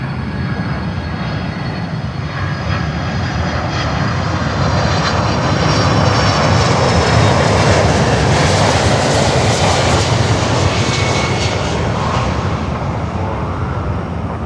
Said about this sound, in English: And next 767 coming in, looks like DHL.